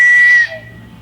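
A short, bright whistle sound effect from the video game MLB 2001, a single loud tone that cuts off and leaves a faint trailing hum.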